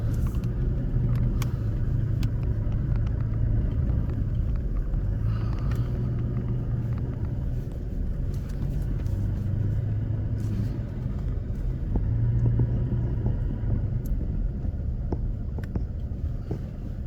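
An off-road vehicle rumbles steadily along a deeply dug-down trail at Yankee Springs, with a low continuous engine drone, occasional bumps and rattles, and light wind noise, with no talking.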